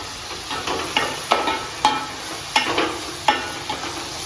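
Chopped tomatoes are stirred into a frying pan for a Royal Stag chicken dish, producing a soft sizzle under a series of sharp spoon clacks against the pan at irregular intervals, close and clear with no talking.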